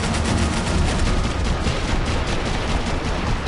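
Dense, continuous automatic gunfire in the shooter game Max Payne 3, loud and unbroken throughout, with overlapping rapid shots and a heavy low-end rumble.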